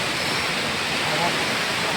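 Rainwater rushes steadily through a knee-deep flooded fairground in Porbandar, a loud, dense, unbroken wash of water and rain noise with no pauses.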